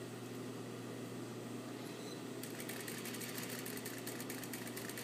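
A sewing machine stitching a pocket edge, a faint steady mechanical hum with a fine rapid needle chatter that grows busier about halfway through, no talking.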